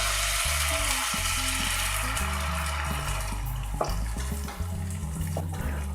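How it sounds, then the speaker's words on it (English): Tomato puree hits a hot pan and sizzles loudly for several seconds, spluttering and popping close up, with a spoon scraping and stirring through it. "as soon as I put it in the hot pan, it's going to splash and splutter around."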